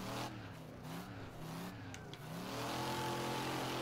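A 605 HP modded race car in the Wreckfest racing game revs hard and climbs through the gears, its engine note rising and falling steadily and loudly with no talk over it.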